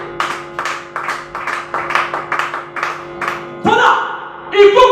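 Audience at a church seminar applauding in rhythmic, steady clapping at close range, followed by louder cheering and voices as the clapping ends.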